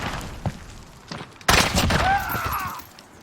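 Video game assault rifle gunfire, a few scattered single shots followed by a louder burst with a ringing, whining tail, amid game effects and a brief voice.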